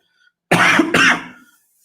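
A single throaty cough, two quick harsh bursts close to the microphone, set against otherwise quiet room air.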